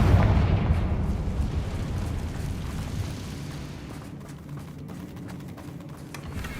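A Confringo spell explodes in the Hogwarts Legacy video game, with a deep booming blast at the start that decays into a long rumbling roar and crackling debris, loud and close with no speech.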